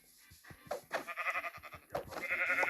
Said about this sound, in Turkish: Aha koyun. Koyun.